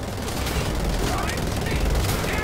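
Sustained weapon fire in Wolfenstein: The Old Blood at the docks, a dense, unbroken roar of rapid shots at a steady, loud level with no gaps through the whole stretch.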